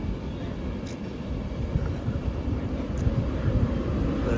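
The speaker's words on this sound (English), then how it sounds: "Oh, it sounds like the 91's coming now." A British Rail Class 91 electric train approaches, heard as a steady broadband rumble that slowly builds in loudness throughout, with no talking.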